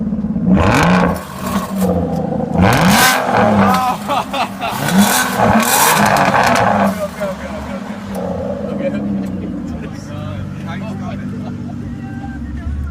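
An Aston Martin Rapide S engine roars through its exhaust in several loud revs that rise and fall close by, then settles into a lower idle, with excited voices talking over it.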